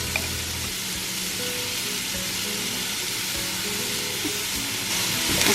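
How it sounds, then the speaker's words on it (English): Minced garlic and vegetables sauté in a pot with an even, crackling sizzle that holds steady throughout, up close and without voices. "So about 8 minutes total of sauteing the vegetables with the garlic."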